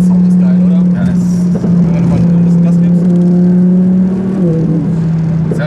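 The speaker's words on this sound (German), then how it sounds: "V10 ist für mich die Endstufe. Da hörst du noch so die Lader ein bisschen im Hintergrund" Audi R8 twin-turbo V10 accelerating hard, a loud, steady engine drone that climbs and then drops at a gear change, with someone talking over it.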